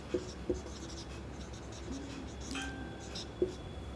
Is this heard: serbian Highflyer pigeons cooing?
no